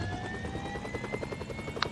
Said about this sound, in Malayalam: ഹെലികോപ്റ്റർ കയറ്.